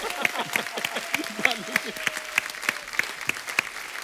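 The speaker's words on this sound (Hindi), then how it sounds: "जोरदार तालियां हमारे भालू के लिए।" Studio audience on a TV comedy show applauds loudly and steadily, sustained clapping with scattered cheers carrying through the whole stretch.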